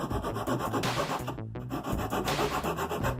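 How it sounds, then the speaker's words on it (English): Rasping and sanding along the edges of a wooden tap handle block with a file and sandpaper, continuous close scratchy strokes with a brief pause midway. "I went at the edges with a file and some sandpaper"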